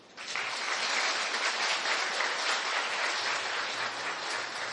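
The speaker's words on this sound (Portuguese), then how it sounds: "dá uma salva de palmas para eles." Women in a church audience give a steady, dense round of applause for the men present, continuous and even for several seconds with no talk over it.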